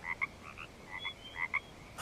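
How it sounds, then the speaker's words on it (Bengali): Frogs croak outdoors at night after a rainstorm. Short, paired croaks repeat in a loose rhythm, sounding faint and somewhat distant. "ব্যাঙের ডাক ভেসে আসছে বাইরে থেকে।"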